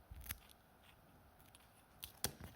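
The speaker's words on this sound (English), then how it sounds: "we need some scissors to snip this because we don't want to rip" Scissors snip away excess material from freshly made red epoxy resin dice: a few quiet, crisp cuts, close but faint.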